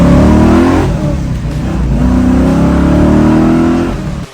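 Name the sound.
V8 Ford Mustang Shelby GT350 replica engine revving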